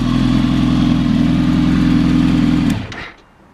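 A 2007 Kawasaki ZX10R D7F motorcycle engine idles with a steady, loud, throbbing rumble up close, then cuts off abruptly and leaves near silence.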